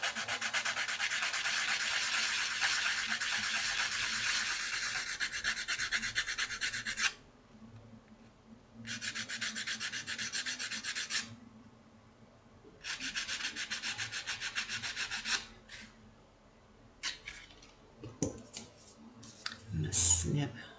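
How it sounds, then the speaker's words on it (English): A small wire-wrapped earring has its edges sanded in several bursts of fast, gritty rubbing, close and steady, separated by pauses, with soft handling clicks and a brief voice near the end. "sand it and clean that any little edges that you might need"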